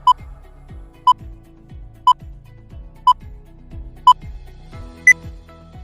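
A quiz countdown timer beeps sharply once per second for six beeps, the last one higher-pitched, over a soft steady ticking.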